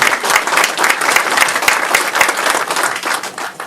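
An audience at a climate change law forum claps to thank the vice minister, with dense, even applause at full strength throughout the short burst.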